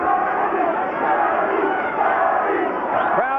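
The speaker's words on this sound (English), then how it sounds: "Crowd is lifting Arturo Gatti" Boxing arena crowd roaring for Arturo Gatti during a fight, a dense, sustained roar of many voices that stays loud throughout, with rising shouts near the end.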